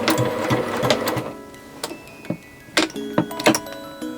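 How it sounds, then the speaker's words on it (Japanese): Sewing machine stitching bias tape around the curved neckline of a blouse made from a yukata, with short bursts of rapid mechanical whirring broken by pauses and clicks, close up. "首のここのところがカーブきついからバイアス引っ張って下の生地のシワ伸ばして縫いましょう"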